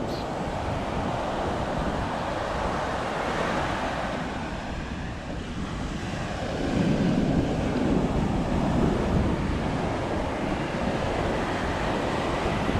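Ocean surf rolling onto a windy beach where a puppy plays in the waves: a steady, broad wash of breaking water mixed with wind buffeting the microphone, swelling louder about halfway through, with no talking.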